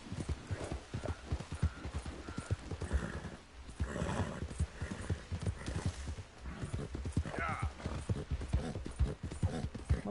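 Horse hooves clip-clop steadily in Red Dead Redemption 2, a brisk rhythmic trot with a whinny and faint mechanical game sounds mixed in, while a voice talks quietly underneath.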